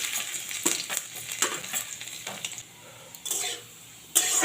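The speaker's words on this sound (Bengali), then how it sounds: "রসুনটা একটু রং ধরা তখন আমি ভেজে নেব।" Garlic and cumin seeds fry in hot oil in a kadai, giving a steady close sizzle with bursts of crackle and stirring scrapes, no talk over it.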